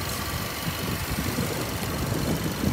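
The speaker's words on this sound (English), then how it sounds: "engine running, as you can hear. It's nice and quiet" A Kia Cerato GT engine idles smoothly and quietly, a steady low hum without any revving, heard up close.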